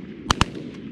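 Two sharp shotgun blasts go off in quick succession during a goose hunt in a flooded cow pasture. The reports are loud and close together, with only a quiet outdoor background before and after.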